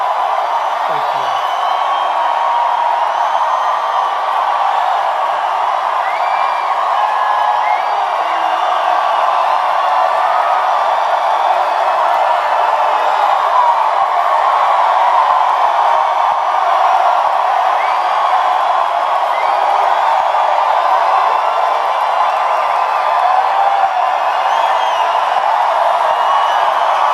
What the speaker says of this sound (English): That's some crowd.